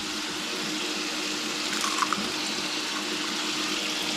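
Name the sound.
water added to eggs in a pan for steaming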